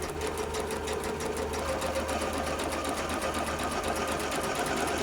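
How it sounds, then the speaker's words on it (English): A sewing machine runs continuously as it stitches stretched elastic along the edge of a sleeve cap, a close, steady, even-paced whirring hum with rapid needle ticking and no pauses. "gently stretch this elastic and sew it 1/8 of an inch, 1/16 to 1/8 of an inch away from the edge of the sleeve cap"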